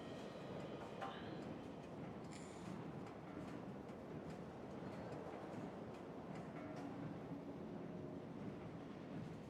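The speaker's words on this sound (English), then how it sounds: "I'm gonna let that train sit there for 2 seconds" Rumbling train in the video game Factorio, a steady continuous rolling drone held at one level throughout, with faint higher clicks over it.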